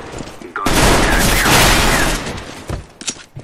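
Sustained burst of gunfire in Counter-Strike: Global Offensive, a loud dense fusillade lasting about a second and a half before cutting to scattered quieter shots and brief game noises.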